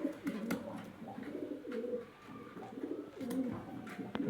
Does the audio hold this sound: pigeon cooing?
yes